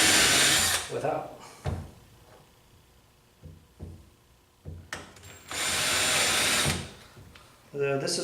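Power drill with a custom-sharpened bit boring holes into a wooden board for a DIY retro arcade cabinet, two loud whirring bursts of a few seconds each separated by quieter handling sounds and brief talk.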